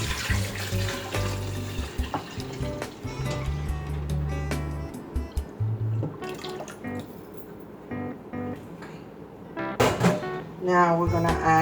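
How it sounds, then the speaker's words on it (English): Broth is poured into a pot of French onion soup, making a steady liquid splashing and gurgling with a few sharper clinks, heard close and alongside intermittent voices. "now I'm adding the broth. I'm gonna add all the broth to it"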